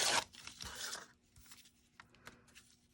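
Paper torn by hand along a ruler's edge for junk journal ephemera: one sharp, close rip in the first second, followed by softer crinkling and a few faint paper taps.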